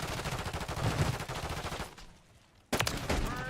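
Call of Duty Warzone gunfire: rapid automatic bursts ring out loud, stop briefly, then a sharp burst resumes, with no voices.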